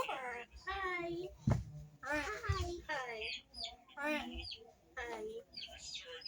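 A pet parrot named Robert squawks and chatters in bursts while playing with children. Its calls mix with the kids' voices, and one short spoken greeting is heard up close.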